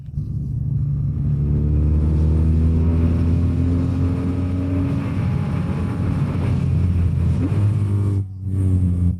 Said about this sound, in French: Eh ben, le quick shift fonctionne. Il passe ici très bien.